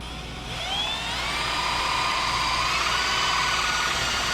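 A drill bit run at fairly high speed bores through a metal spacer clamped in a vise, a loud continuous whine with rising, shifting tones that starts after a brief pause and holds steady to the end.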